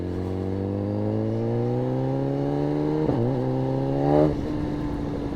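A 2020 BMW S1000RR motorcycle cruises with a steady engine drone that rises in pitch, dips briefly at a gear change, then climbs again before easing off, heard close and continuous.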